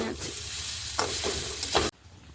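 Steady crackling sizzle of food frying in a pan, close and fairly loud, with a few scraping stirs, cutting off abruptly near the end.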